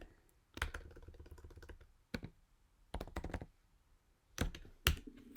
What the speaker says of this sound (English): So you can see Paul Nicholson is typing here.